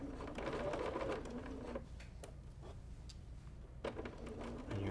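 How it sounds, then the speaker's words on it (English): A sewing machine fitted with a stitch-in-the-ditch foot stitches quilt binding with a steady, close, rapid mechanical whir that pauses briefly midway and then carries on, with small clicks and no talk. "And you're just sewing"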